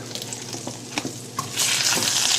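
Raw frozen prawns with pepper going into a hot pan, scattered stirring clicks followed by a sudden loud, steady sizzle that keeps going to the end, no voices.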